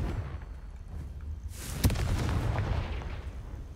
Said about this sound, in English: It's some kind of weird Confringo.